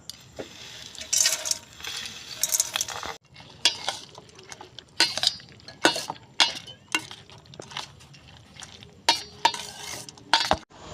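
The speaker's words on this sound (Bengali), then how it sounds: "এবার আমি ভেজে রাখা বোঁদেটা চিনির শিরার মধ্যে ঢেলে দেব।" Fried boondi is tipped into sugar syrup and stirred, giving a series of close scraping strokes and clinks of a spoon against the pot in an irregular rhythm over a soft wet background, with no talking.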